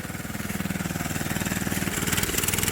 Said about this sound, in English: Because of course it's a go-kart engine and it just continues to rev up.